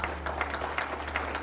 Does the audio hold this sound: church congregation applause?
yes